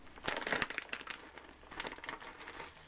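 A bag of chocolate drops crinkles and rustles as it is tipped out into cookie dough, a close, fairly quiet plastic crackle in several bursts.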